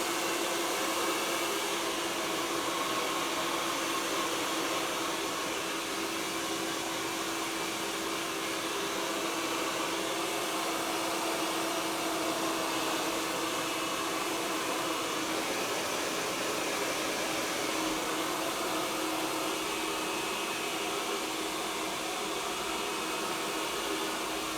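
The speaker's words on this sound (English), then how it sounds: "if you can just get your hairdryer, your product should be on your hair, just start blasting the hair off at the root" A handheld hair dryer blasts steadily at the roots of product-coated hair during a home blow-dry, a loud continuous whooshing roar that holds unbroken throughout.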